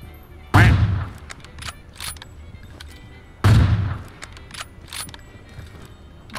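Two loud gunshots from a video game, each a sharp blast with a ringing tail about three seconds apart, followed by smaller clicks and clatter in between.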